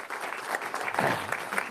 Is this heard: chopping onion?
no